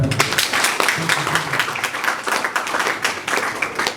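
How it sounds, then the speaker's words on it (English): An audience gives a round of applause for performers at a launch event, close, uneven clapping with sharp individual claps, steady and fairly loud throughout. "it's a round of applause for them."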